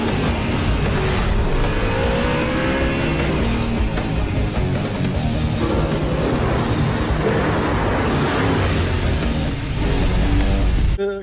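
An Audi R8 supercar engine roars loud and close, revving hard and accelerating continuously for several seconds with a dense, rasping exhaust note that surges again near the end.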